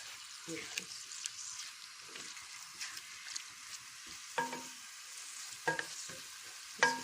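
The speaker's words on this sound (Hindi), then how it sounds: "अच्छे से फ्राई करूँगी ऑयल में" Chicken and onions fry in oil in a kadhai, a steady hiss broken by a few louder scraping stirs and clinks near the end, with no talk.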